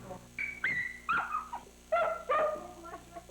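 Dogs at an animal shelter whimper, yip and bark in short, high, whining bursts, close and fairly loud, with several calls overlapping.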